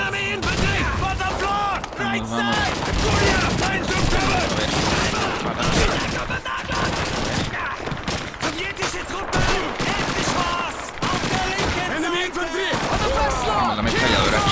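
Dense, continuous gunfire and explosions from a Call of Duty 2 battle, with machine gun bursts blending into a chaotic wall of combat noise throughout, while someone talks over it.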